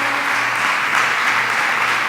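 A church congregation applauding together, dense sustained clapping filling the room at a steady loud level.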